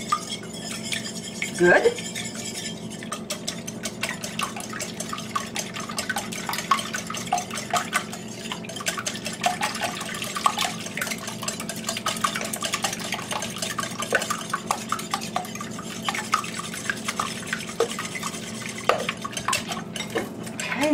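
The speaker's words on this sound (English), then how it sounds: "We are going to whisk that." Eggs are whisked in a bowl for make-ahead breakfast burritos: a fast, continuous run of clinking, scraping strokes close by, with faint kitchen clatter and a single brief spoken word.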